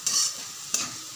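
Chopped onions frying in a pan while being stirred, giving two short bursts of bright sizzling and scraping over a soft, steady fry.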